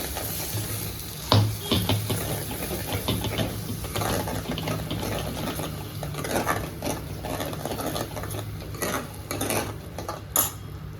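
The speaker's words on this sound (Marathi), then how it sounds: "हे जे डाळीचं पाणी आपण काढून ठेवलं होतं ते आता आपण ह्याच्यात घालणार आहोत" Reserved lentil cooking water for katachi amti goes into a hot pan of oiled spices, giving a steady sizzle with occasional clinks of a spoon against the pan, close and fairly loud, with no talk.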